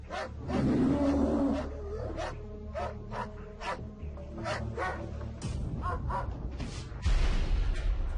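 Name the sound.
dog barking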